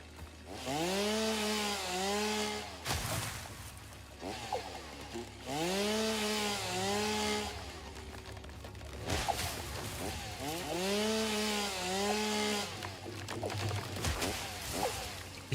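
A chainsaw in the video game Satisfactory revs up three times in long, rising-and-falling whining bursts, loud and close, with short gaps of clatter and rumble between them.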